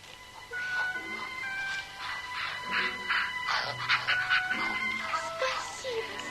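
Dogs in an old animated film of The Wild Swans whimper, whine and yip in a rising, overlapping chorus that builds toward the end, with no speech over it.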